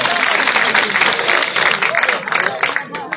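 Loud, dense applause from a crowd greeting Devender Kadian at a village rally in Shekhpura near Ganaur, steady clapping throughout with voices mixed in.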